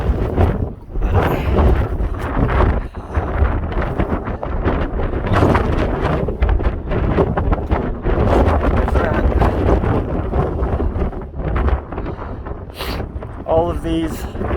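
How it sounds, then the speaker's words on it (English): Strong outdoor wind batters the microphone in a steady, loud roaring rush throughout, with a person talking beneath it during a hike amid stormy weather. "the wind just blew me over"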